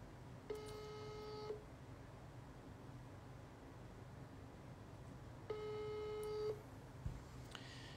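Two sustained electronic telephone ringback tones, each lasting about a second, sound over a steady hiss while phoning a foundation, with a brief click and a third tone starting at the end.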